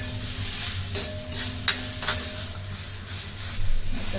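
Mutton for Malvani mutton fries in a little oil in a pan, a steady close sizzle with occasional stirring scrapes and no voices.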